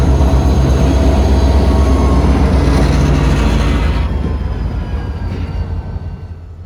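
FEC freight yard job at Medley yard in Miami backing a cut of cars from Allied, a steady loud low rumble and rolling clatter close by that slowly fades over the last seconds, no voices.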